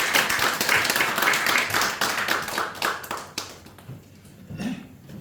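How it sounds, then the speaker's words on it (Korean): Church congregation applauding after a sermon, a dense patter of many hands fading over a few seconds into scattered claps and faint room noise. "우리 하나님께 영광의 박수 올려드리겠습니다."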